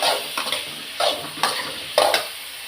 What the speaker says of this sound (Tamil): இந்த எண்ணெயிலே கத்திரிக்காயை போட்டு வதக்குறேன்